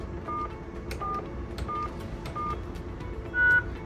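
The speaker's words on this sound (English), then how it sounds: "It responds with a single tone in confirmation, which is the acceptance of the command." A Talkaphone ETP-500 emergency phone gives a run of short, evenly spaced keypad beeps and ends with one longer, louder confirmation tone, over a steady hum of room noise.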